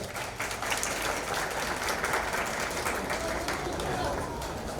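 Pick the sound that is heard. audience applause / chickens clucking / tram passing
audience applause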